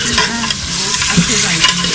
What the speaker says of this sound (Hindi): थोड़ा सा ऑयल में भून लूँगी